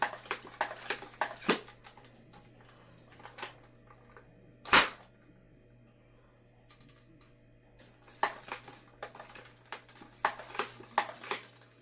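A Nerf SuperMAXX 1500 blaster fires a dart with one sharp, loud snap midway, set among quieter clicks and handling noises before and after.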